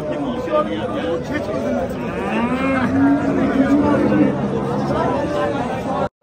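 A cow lets out a long, loud moo close by at a livestock market in Khojaobod, Andijan, Uzbekistan, while a crowd chatters and murmurs steadily in the background.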